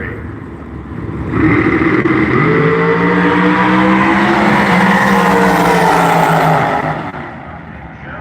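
Drag race cars launching and roaring down an eighth-mile strip at a Halloween Classic event, a loud rising engine scream with climbing harmonic tones that swells, holds for several seconds, then fades as the cars pass.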